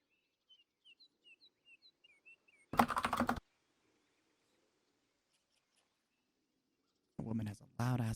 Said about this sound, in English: The woman has a loud ass keyboard.